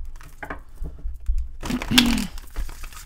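A deck of tarot cards is shuffled by hand, giving a quick burst of riffling, papery flutter and soft slaps. The sound is close and moderately quiet, with faint handling noises before it.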